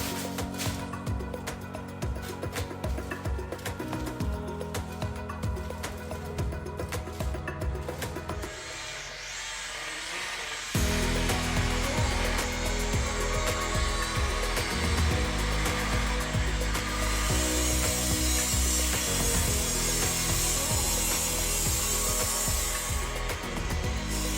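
A power polisher whirs continuously up close while wet sanding and buffing the clear coat on a three-stage pearl white Tesla Model 3 A-pillar repair, its pitch and load shifting partway through with no speech.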